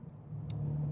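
A Toyota GR Yaris engine hums low and steady, gradually growing a little louder, with a brief faint hiss partway through.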